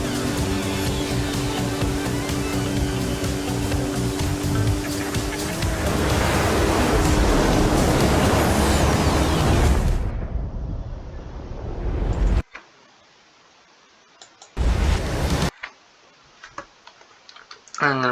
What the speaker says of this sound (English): the water splashes off of the vehicle as it gains airspeed going down towards the river